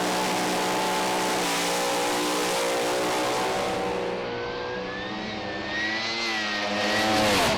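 A race car engine roars loud and continuous during a run, pitch climbing and sweeping through gear changes, harsh and close throughout.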